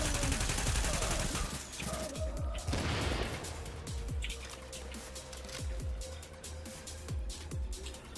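Rapid gunfire between rival factions in The Division's Dark Zone, with repeated sharp shots in bursts over a steady ambient hum, moderately distant and without talk.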